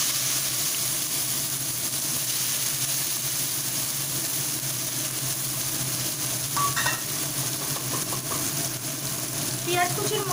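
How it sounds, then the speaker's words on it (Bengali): Chopped onions with a little salt fry in a pan with a bay leaf and dried red chilli, giving a loud, steady sizzle throughout with a few faint clinks of a utensil near the end. "পেঁয়াজ কুচিগুলোকে ভালোভাবে ফ্রাই করে নিচ্ছি।"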